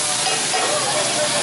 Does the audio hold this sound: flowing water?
no